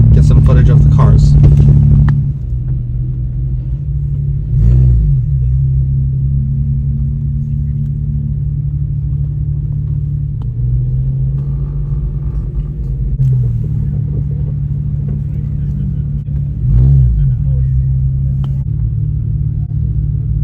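Several Porsche cars idle with a deep, steady rumble at an outdoor car meet, with brief louder revs at a few moments, heard under a person talking.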